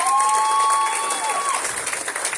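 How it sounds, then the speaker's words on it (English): A conference audience gives a round of applause, a steady broadband patter of many hands, with a thin tonal whine running through the first part and faint voices mixed in. "Let's give them a round of applause."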